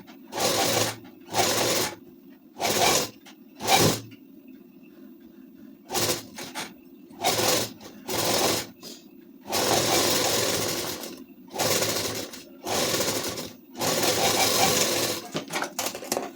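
Sewing machine stitching along the folded neckline of a ladies suit, a series of short whirring runs of about a second each separated by pauses, with longer bursts toward the end.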